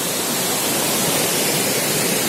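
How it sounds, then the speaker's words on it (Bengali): A mountain waterfall on the trek from Gurdum to Srikhola on the Sandakphu route pours out a dense, steady roar of rushing water, close and constant, with no voices. "একটা ঝর্ণা পেয়েছি আমরা"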